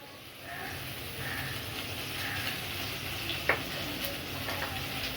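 Potatoes and onions frying in a pan with cumin and ginger paste, a soft steady sizzle with a faint tap near the middle.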